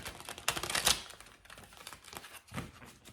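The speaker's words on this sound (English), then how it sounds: "As I'm shuffling the cards," Tarot cards being shuffled by hand in a quiet room, giving a close, papery riffling and flicking with a burst of louder rustling early on, then steadier lighter shuffling, with no talking.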